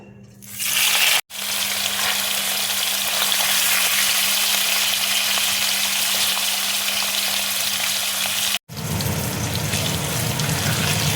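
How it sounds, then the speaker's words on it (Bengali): Pieces of paneer fry in hot oil in a pan, giving a loud, continuous close-up sizzle that runs steadily for several seconds, broken only by two momentary cuts. "তেল দেখো গরম হয়ে গেছে। এবার আমি পনিরগুলো দিয়ে দেবো।"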